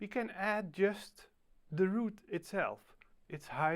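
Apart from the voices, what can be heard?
None of the usual background noises is heard.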